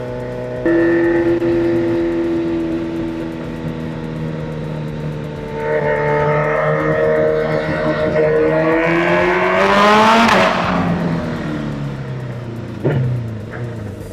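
A motorcycle engine revs up loud and close, harmonic tones climbing to a sharp peak around ten seconds, then dropping back with a brief second blip near the end.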